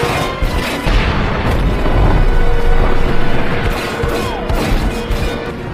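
A car blowing up after being shot at in an action film: a loud, continuous mass of crashing and booming debris that fills the whole stretch, with no clear separate blasts standing out.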